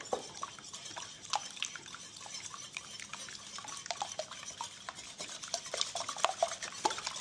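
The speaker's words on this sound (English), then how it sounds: "And then we'll give it a quick whisk." Eggs for a zucchini frittata are whisked quickly back and forth in a bowl, producing a rapid, close, continuous clicking and swishing with light metallic taps.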